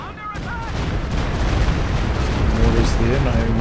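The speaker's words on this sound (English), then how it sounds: "Mortars there, not having much luck" Mortar and artillery fire in a Company of Heroes 2 multiplayer battle, heard as a dense, continuous rumble of distant booms and blasts with faint tonal game sounds over it.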